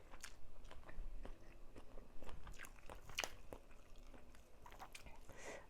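Crisp crunching bites and steady chewing of raw vegetables, such as cabbage, heard up close, with a few louder crunches spread across the stretch and no talking.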